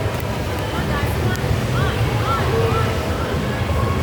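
Water splashes and sloshes continuously at a swim meet, a dense steady wash of churning pool water with faint voices and music underneath.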